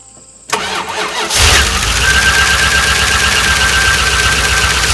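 A 1988 Ram truck with a turbo cranks briefly on its first start of the year, then fires and settles into a steady, loud, rumbling idle close by.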